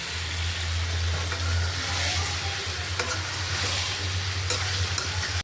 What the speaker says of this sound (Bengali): বেগুনটা ভাজবো। সরষের তেল দিয়ে দিলাম।